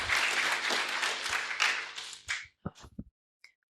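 Dense audience applause for speakers at a debate event, strong for about two and a half seconds, then thinning to a few scattered claps and a faint voice.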